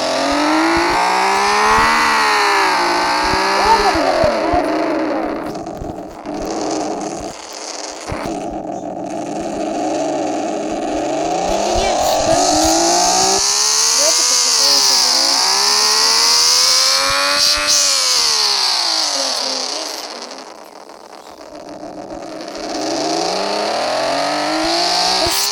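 Loud car engine in a Roblox car simulator game revs up and down in repeated sweeping waves, rising and falling pitch over about twenty-five seconds, with no talking.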